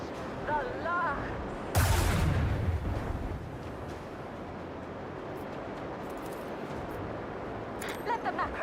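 Macro cannons fire in Warhammer 40K: Rogue Trader, one heavy booming blast followed by a long rumbling decay, with faint voices at the start and end.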